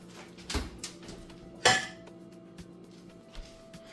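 A baking dish of chicken parmesan clanks against the oven rack as it slides into a home oven, with two distinct metallic knocks, the second louder, followed by quiet kitchen ambience.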